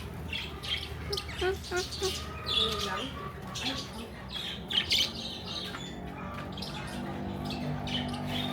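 Several birds chirp and squawk close by in bursts at a wildlife park in Bohol, Philippines, with a person talking over them.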